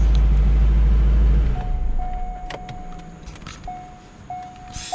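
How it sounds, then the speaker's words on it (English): Chevrolet Corvette C5 Z06 engine running loud and close, then shutting off abruptly, leaving a quiet interior with a steady warning chime and faint clicks. "I guess I'll turn the car off"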